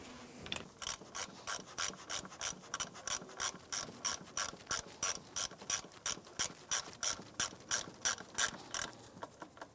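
A ratchet tightens a 10 mm nut on the ignition coil of a 2007-2013 Acura MDX, giving a steady run of close, crisp clicking bursts, roughly two per second, with nothing else in the background.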